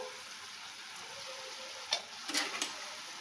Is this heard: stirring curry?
yes